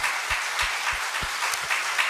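A church congregation claps together during Sunday worship praise, a steady dense wash of hands with a few louder low thumps, filling the room without speech.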